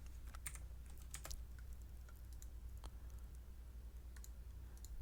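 Push button on an Arduino circuit pressed repeatedly, giving a scattering of small, sharp clicks at uneven intervals over a low steady hum, faint and close, with no talking.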